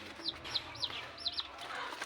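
Three-day-old Black Permut 2 chicks, unusually large hatchlings, give a run of about six high, thin chirps in quick succession, fairly faint over a low background hum.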